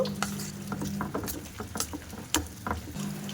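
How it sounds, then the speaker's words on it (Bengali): Chopped bananas being mashed for a pancake batter, soft squishy pattering and stirring strokes close by, with faint clicks of utensil against bowl. "ভালো করে কলাটা চটকে নেব"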